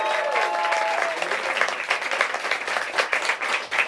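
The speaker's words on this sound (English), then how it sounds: "I would like for you to keep clapping for each reader as I say their names, okay?" An audience at a literary reading event claps for the readers, a dense, steady round of applause from many hands that carries on throughout at a moderate, even level.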